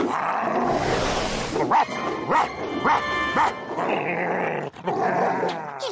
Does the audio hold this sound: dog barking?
yes